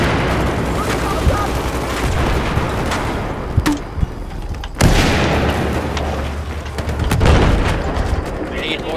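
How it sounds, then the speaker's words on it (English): A bomb detonates in Battlefield 4 amid a collapsing, destructible environment, with two sharp, loud blasts a second apart rising over continuous rumbling combat noise and scattered gunfire. "Oh, that bomb."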